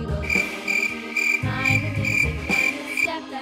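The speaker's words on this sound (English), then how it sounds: "Cricket." Cricket chirping in repeated bright pulsed bursts, a steady rhythmic trill that pauses briefly and resumes, close and clear with no voices.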